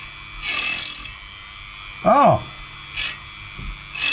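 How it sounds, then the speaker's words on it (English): Burnt coating is scraped off an unmarked resistor in short, close scratchy bursts, one near the start, then a couple of briefer strokes, with a brief voiced sound from a person in between. "you can see scraping away"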